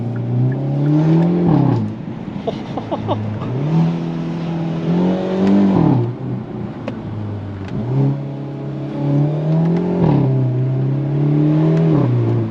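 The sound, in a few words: Hyundai Elantra N engine accelerating while driving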